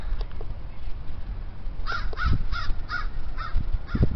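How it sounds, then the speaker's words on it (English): A raven perched in a tree caws in a rapid series of harsh calls, moderately distant outdoors over steady wind and background noise, with a few louder caws near the end. "I've been watching that raven crow all morning. Can you see him? Let's see if I can zoom in on it. Can you hear him?"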